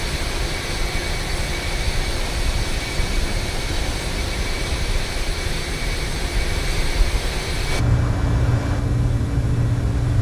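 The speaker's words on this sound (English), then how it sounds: "jetting off from Surabaya for a 3-hour long flight to Penang" A jet aircraft in Microsoft Flight Simulator departs Surabaya with a steady, loud, even engine roar that shifts abruptly near the end as the tone changes.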